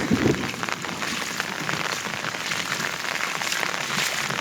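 Heavy rain falls steadily beside flooded fields as rainwater runs off, a constant close hiss of drops with a brief louder splash at the start.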